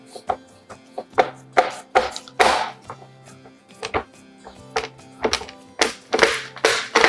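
Soft lemon bar crust dough being pressed and mashed into a baking pan produces a rapid, irregular series of dull thunks and taps, fairly close and loud, with no talking.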